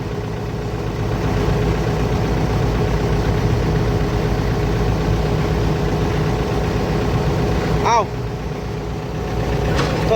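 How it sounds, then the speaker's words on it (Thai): A car engine runs steadily at low revs in an eco driving mode, a continuous even hum from inside the cabin with a brief tonal chirp near the end. "แต่ว่าเจ้ามีนานี่เร่งเครื่องไม่สุดนะครับ"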